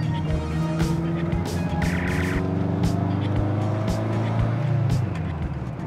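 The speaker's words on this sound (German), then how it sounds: "Ja, der Motor ist halt schon alt." An old car's engine labors loudly and steadily up a winding alpine mountain road during a hill-climb drive, with a constant low drone and occasional tire or gear noises.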